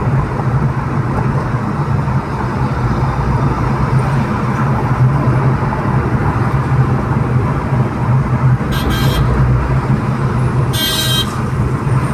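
Loud, continuous roar of road traffic with cars passing close by, and a couple of short high-pitched squeals near the end.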